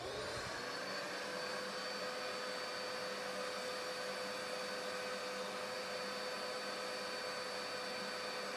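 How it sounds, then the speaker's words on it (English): A shop vac runs off a 10,000-watt hybrid inverter, starting up and then holding a loud, steady whirring roar with a high whine throughout. "And then I can turn a shop vac on L2 and see if it can run that as well."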